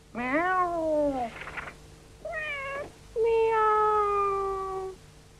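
Imitation cat meows by a boy in a film, given as a signal: three close, clear calls, the last one long and sustained, with brief gaps between.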